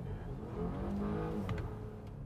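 A 2021 Volvo XC60 T6 Recharge engine in sport mode revs and pulls hard under acceleration, a steady mechanical drone with a rising supercharger whine layered on top, close and continuous.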